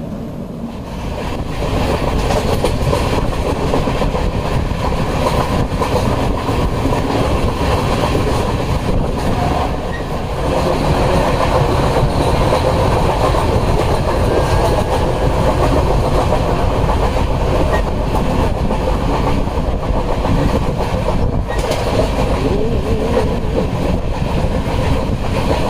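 A Konkan Railway passenger train runs on the Mumbai to Ratnagiri line, a steady loud rumble of wheels and carriages that lasts throughout with no talk.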